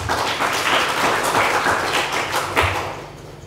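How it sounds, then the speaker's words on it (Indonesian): A church congregation claps together, a close, loud and continuous patter of many hands that carries on steadily and eases off at the very end. "Kasih tepuk tangan itu Tuhan"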